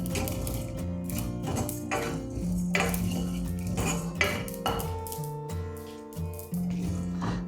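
Cumin and coriander frying in a pan for a black chicken curry, heard as a dense run of metal clinks and scrapes from stirring, close and fairly quiet, with no voices.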